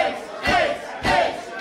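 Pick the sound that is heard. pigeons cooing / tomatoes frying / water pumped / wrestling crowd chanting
wrestling crowd chanting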